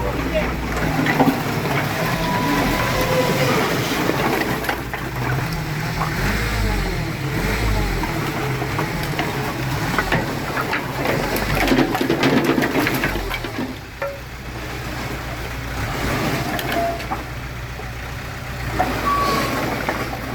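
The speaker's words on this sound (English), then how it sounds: "my friend Vova, the neighbor, just got a load of firewood. So the guy came and they're dropping it off now" A truck dropping off a load of firewood at a neighbor's place, its engine rumbling steadily nearby for the whole stretch with knocks and clatter, while people talk over it.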